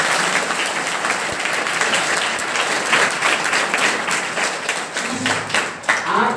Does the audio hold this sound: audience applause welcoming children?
yes